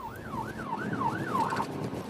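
A police car siren wails in a rapid rising and falling pattern, repeating about four times before cutting off, fairly close and alone over light road noise.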